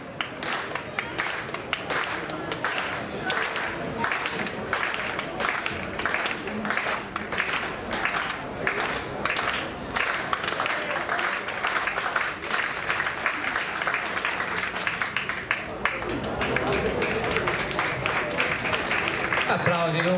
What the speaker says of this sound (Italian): Applausi dunque per Rigamonti che saluta il pubblico di Bergamo.